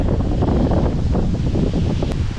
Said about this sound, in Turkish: Yine çok rüzgarlısın Maraş.